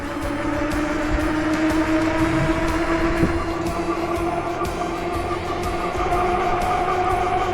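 A budget $499 Amazon e-bike ridden at full throttle gives a steady, close electric motor whine over continuous road and wind rumble, with no talking.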